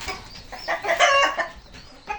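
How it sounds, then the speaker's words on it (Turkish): GSG rooster and hens in a coop cluck and call in a busy run of overlapping bursts, fairly close and moderately loud, with no talking. "Şu GSG horozumuz"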